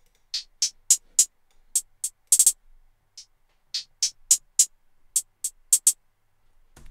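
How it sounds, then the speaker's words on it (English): Dry electronic hi-hat hits from an FL Studio beat play alone, crisp short ticks in an uneven triplet pattern with rapid rolls, clear and isolated against silence, without added reverb. "I moved on to the hi-hats, which without the hi-hatizer,"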